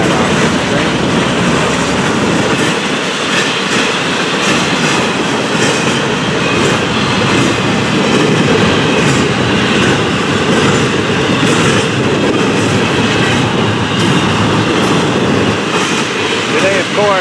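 A long freight train with auto racks on the head end rumbles steadily past close by, continuous heavy rolling noise with rhythmic wheel clatter throughout.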